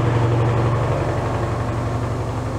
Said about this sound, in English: There's a big lorry.